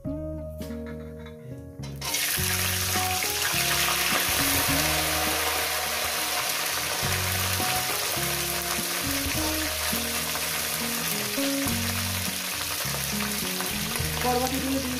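Green beans (barbati) tipped into hot oil with toasted cumin seeds burst into a loud, steady sizzle after a quiet start, with a soft stir and scrape running under the frying.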